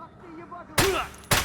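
Two loud gunshots from 7.62x51 rounds hitting body armor in Escape From Tarkov, sharp close cracks about half a second apart after a quiet moment with a faint voice.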